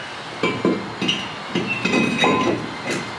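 Metallic clinks and knocks ring out as a brake rotor is slid back onto a Ford F-series wheel hub, a handful of separate contacts spread across a few seconds, fairly quiet and close with no talking.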